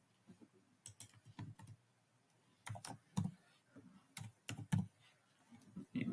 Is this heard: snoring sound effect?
no